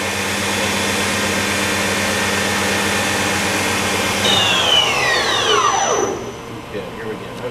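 An Okuma Howa 852V CNC machine's spindle runs with a steady high whine and harmonic tones, then winds down in a falling sweep as it is switched off, leaving a quieter hum beneath.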